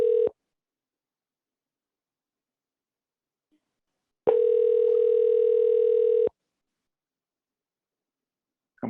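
A telephone ringback heard while calling a dental office: a short tone burst, a long silent gap, then a two-second ring, with the next ring just starting at the end, clear and alone.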